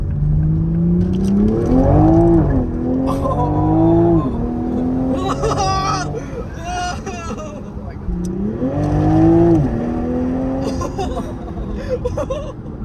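A rebuilt Toyota Supra accelerates hard around a racetrack, its engine rising in repeated revving sweeps with gear changes, loud and close throughout, with brief voices faintly in the background.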